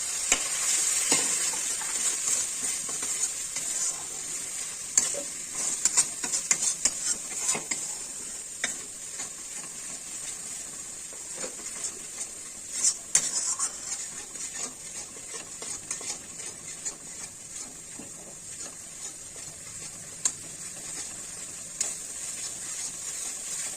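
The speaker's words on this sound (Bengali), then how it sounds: "সুন্দর করে মশলাটা ভাজা হচ্ছে।" Spices sizzling in a hot pan for a cauliflower roast, with a soft, continuous hiss and scattered clicks and scrapes from stirring, moderately quiet and close.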